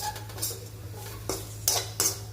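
Cluster beans (gavar) are sautéed and stirred in a pan, producing intermittent scraping and clinking of a spoon against metal over a low steady background hum, with a few sharper strokes near the end.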